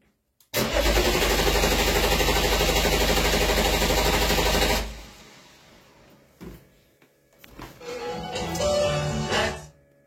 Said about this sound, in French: il me dit d'actionner maintenant le démarreur